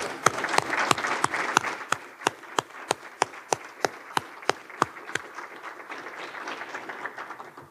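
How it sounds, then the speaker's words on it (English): Conference audience applause after opening remarks, a bed of crowd clapping with one loud nearby clapper striking in a steady rhythm over the first several seconds before it fades into scattered claps. "Can we give them all a round of applause for a moment?"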